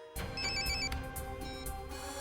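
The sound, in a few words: telephone ringing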